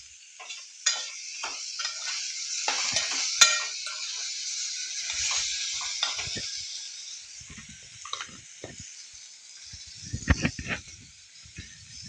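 Colocasia tamarind curry ingredients with jaggery being stirred in a pan, a faint hiss and sizzle with scattered, irregular spoon scrapes and clinks, quieter stretches between, over about twelve seconds.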